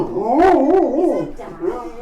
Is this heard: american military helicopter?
no